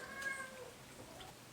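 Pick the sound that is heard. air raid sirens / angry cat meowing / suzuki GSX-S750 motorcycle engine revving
angry cat meowing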